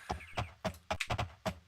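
Horse hooves clip-clopping as a rider travels in the Daggerfall video game, a series of about seven distinct, evenly spaced thuds, fairly close and clear with no talking over them.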